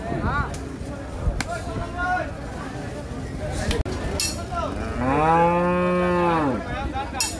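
At a busy Bangladeshi cattle market for Qurbani cows, a cow lets out a long, loud, near moo over crowd chatter, thumps and clinks, with people talking throughout.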